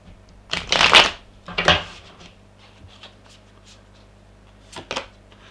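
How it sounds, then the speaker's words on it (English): Tarot cards being shuffled at close range, with two loud riffling bursts early on, a softer rustle in between, and a brief final flutter near the end. No one speaks. "Let's give these a good shuffle."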